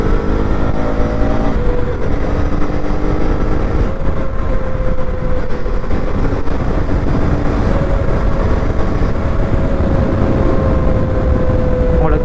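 A KTM Duke 250 Gen 3 motorcycle engine hums steadily at night while riding, a loud continuous drone with wind noise and no pauses.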